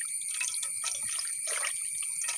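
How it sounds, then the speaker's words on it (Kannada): Kepala flowers being rinsed in water by hand, a steady close trickle and splash of running water with small drips continuing throughout, no talking. "ನಾನು ಆ ಕೇಪಲದ ಹೂಗಳನ್ನು ಚೆನ್ನಾಗಿ ನೀರು ಹಾಕಿ ತೊಳ್ಕೊಳ್ತಿದ್ದೇನೆ"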